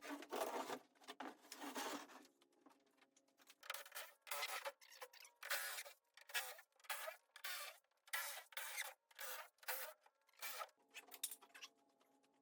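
Wooden top panel of a shipping crate for a handheld fiber laser welder being pried and pulled off, giving a run of repeated rasping, scraping wood strokes in steady bursts, fairly close and with no talk.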